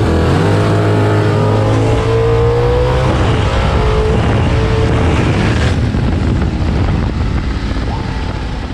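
A drag race car accelerates hard down the track with the dial-in set to 5.10, its loud engine note rising and droning steadily with wind noise, close and continuous throughout.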